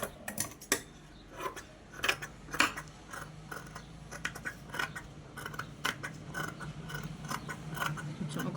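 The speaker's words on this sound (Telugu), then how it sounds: "ఇప్పుడు దీన్ని కట్ చేయాలి." Scissors cutting cloth for hand stitching, a series of crisp close snips and clicks in an uneven rhythm, fairly faint, with light handling noise between cuts.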